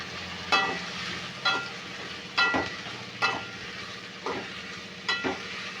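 Chopped tomatoes sautéing in an oiled pan for a fish curry, a steady sizzle broken by about six sharp clattering stirs at roughly one-second intervals, close and alone with no talk.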